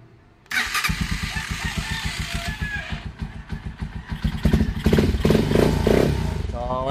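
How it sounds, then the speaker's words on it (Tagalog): A Honda TMX 125 motorcycle engine cranks and catches, then runs with a rapid chugging putter that grows louder and revs near the end. It is close and loud. "Aandar na yung iyong motor."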